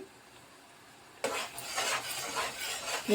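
A spoon stirs sugar syrup in a pan while making Mysore pak, starting after a quiet moment as a steady scraping and swishing with soft sizzling, close by and without speech.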